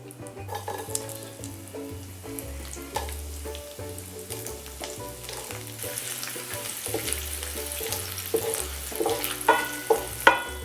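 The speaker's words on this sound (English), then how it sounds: "we are going to fry these dried anchovies until they are really crispy" Dried anchovies frying in hot oil in a pan, a dense continuous crackling sizzle with bursts of popping that grows busier toward the end, close and with no speech.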